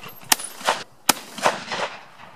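Two sharp shotgun blasts at a clay shoot crack out about a second apart, each followed by a fainter echoing report, fairly distant and with no talk over them.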